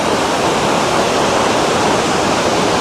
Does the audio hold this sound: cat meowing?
no